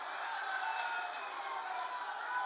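A crowd at a political rally in Bihar welcomes Chief Minister Nitish Kumar with applause. The clapping is a steady, even wash of sound with no voices over it.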